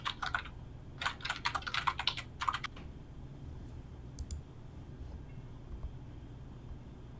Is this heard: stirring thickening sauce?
no